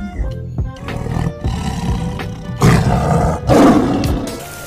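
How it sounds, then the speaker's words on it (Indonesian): A tiger roars repeatedly in loud, close bursts, with deep growling rumbles between the louder roars and no talking. "lihat teman-teman, ternyata sini ada harimau"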